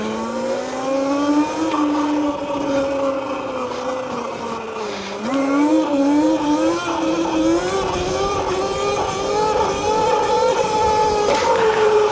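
A Traxxas RTR Lite RC car with a Supermoto setup drives steadily, its small electric motor giving a continuous whine that rises and falls in pitch as it speeds up and slows, loud and close throughout.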